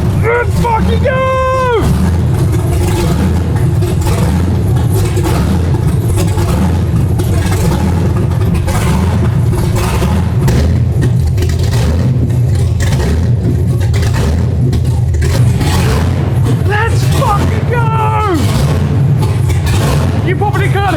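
An LS V8 swapped into a Rocket Bunny GT86, freshly repaired after oil pressure trouble, revs loudly up close with rising and falling whines between sustained roars, while excited voices shout over the engine.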